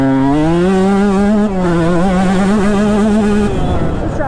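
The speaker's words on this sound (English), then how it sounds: "I can pretty much hold the throttle wide open that whole corner." A KTM 150 two-stroke motocross bike held at wide-open throttle through a dirt-track corner: a loud, close, buzzing high-pitched engine wail that wavers in pitch, steps up briefly at a gear change, then drops off near the end.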